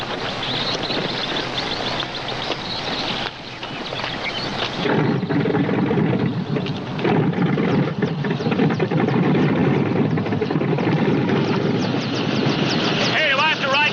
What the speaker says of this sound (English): Warm up the copter.